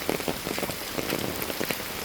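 Steady rain falls at a police park, drops pattering densely on nearby surfaces with a constant hiss, close and unbroken without voices.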